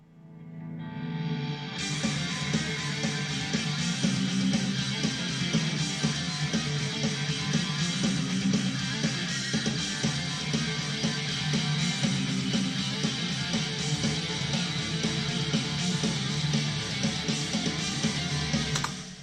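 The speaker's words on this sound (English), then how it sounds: "that's quite a hammer-on, pull-off riff" Lead guitar plays a fast hammer-on and pull-off riff, a dense continuous run of notes at steady loudness that kicks in after a brief swell and carries on for about seventeen seconds.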